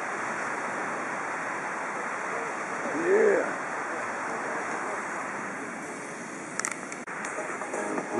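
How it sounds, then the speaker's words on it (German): Sea waves break on a beach at night in a steady, even roar of surf that fills the background, with a brief louder swell partway through. "Hört ihr das Rauschen des Meeres?"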